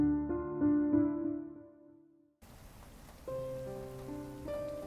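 Rain falling in an animated horror story scene, a soft steady hiss of rain that follows a fading musical passage and continues under light tonal music.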